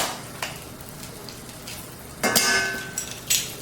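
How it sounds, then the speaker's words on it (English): Minced garlic fries in a sprayed frying pan alongside zucchini noodles, giving a soft steady sizzle broken by a few sharp clinks and scrapes of a utensil against the pan. "you want to mince your garlic right into the frying pan"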